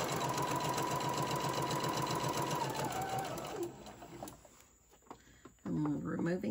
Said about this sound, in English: I'm going to sew down one side.